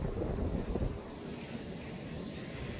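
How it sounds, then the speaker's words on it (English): A Mitsubishi Electric Mr. Slim R410A split heat pump air conditioner runs at a bank, making a steady broadband whoosh and rumble that is even and continuous, slightly louder at first, with no talk. "A Mitsubishi electric unit, R410A, Mitsubishi electric."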